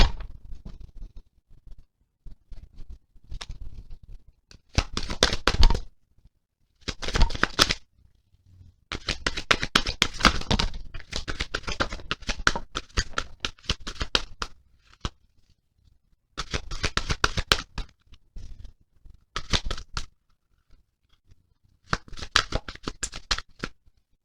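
Bursts of tarot card shuffling, crisp riffles and flutters repeating in clusters with short pauses between, close and fairly loud, no talking.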